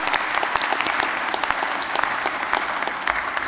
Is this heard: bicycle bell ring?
no